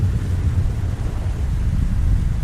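Rain and thunder in an animated Hindi children's story, a steady low rumbling storm with dense rainfall noise, loud and continuous throughout.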